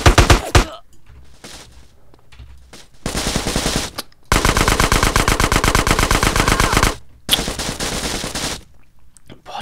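Loud bursts of rapid automatic gunfire from a weapon in the video game GTA San Andreas, fired in several long sustained volleys with short pauses between them.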